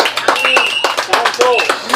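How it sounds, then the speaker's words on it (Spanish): A church congregation applauds God in a crowded service, brisk rhythmic clapping under loud voices and shouts from the room. "¿Cuántos aplauden a Dios?"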